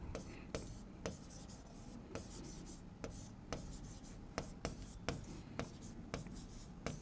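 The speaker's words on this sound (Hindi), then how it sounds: "तो लिख सकते हैं" Pen or chalk writes on a board or paper during a geometry lesson, with quick, rhythmic strokes and taps repeating steadily over a faint, quiet background.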